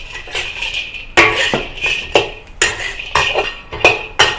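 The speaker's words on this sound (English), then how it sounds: "fry the peanuts lightly" Peanuts frying lightly in a little oil in a wok are stirred with a metal utensil, giving repeated sharp scrapes and clanks at an irregular rhythm over a faint sizzle.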